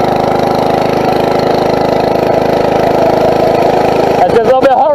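A Phatmoto four-stroke engine on a bicycle, ridden in the rain, drones loudly and steadily at close range, with a voice speaking near the end.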